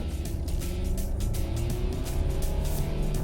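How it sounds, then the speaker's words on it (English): A Honda City with a CVT gearbox pulls away from a standstill at full throttle. The engine drone is loud and close, holding a steady, continuous note with no gear-change breaks for the whole stretch. "Let us do a quick acceleration test over here."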